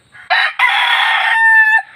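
A game fowl rooster crows once, loud and close, a single drawn-out cock-a-doodle-doo with a short stutter at the start, alone with no other sounds.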